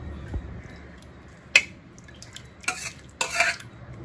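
Cooked lentils being stirred into kanji porridge in a pot, heard as soft, wet squishing with a few sharp clinks of a spoon against the vessel, close and fairly quiet.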